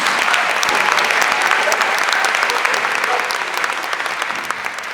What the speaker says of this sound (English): And give them a round of applause for their excellence.